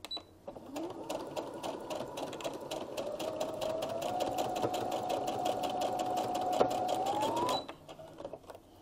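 An electric sewing machine stitches a pillowcase seam from top to bottom, its motor whirring up and holding a steady rapid needle rhythm for about seven seconds before stopping, close and alone.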